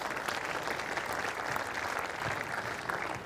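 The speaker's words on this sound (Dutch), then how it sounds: "Geef ze nog hartelijk applaus." Warm applause from a seated audience for the players at a competition event, an even, continuous patter of many hands clapping at moderate loudness throughout.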